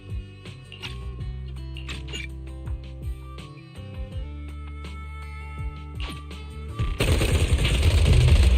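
Rapid gunfire bursts rattle through a tense Zenless Zone Zero game scene, sharp repeated shots over a low musical score, then a loud wash of noise swells at the end.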